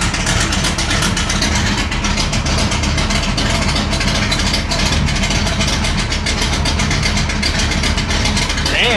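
A 1964 Ford Galaxie 500 with a 427 V8 idles steadily nearby, a loud, dense, even engine rumble that holds constant throughout without any revving.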